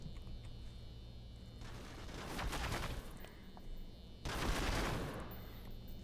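Enemies open fire in City of Heroes in two separate bursts of rapid gunfire, each lasting about a second or two, over a low background hum. Nobody speaks.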